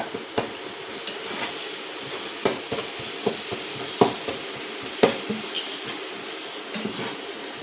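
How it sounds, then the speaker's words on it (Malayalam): Cooked tomatoes mashed with a utensil in a pan for a quick onion curry: irregular knocks and scraping clinks against the metal over a faint background sizzle, with no talking. "ജസ്റ്റ് നമ്മളൊന്ന് തക്കാളി ഉടച്ച് കൊടുക്കണം കേട്ടോ."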